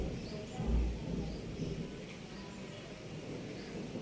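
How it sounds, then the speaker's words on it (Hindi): Low thunder rumbles faintly in the distance over steady light rain, with occasional soft bird chirps. "और बादल देखो कैसे गरज रहे हैं।"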